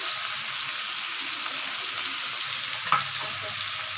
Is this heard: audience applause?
no